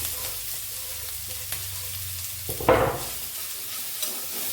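Chopped winged beans hit hot oil seasoned with mustard seeds and chillies, a quiet frying hiss with a sudden louder burst of sizzle as they go in, followed by soft stirring.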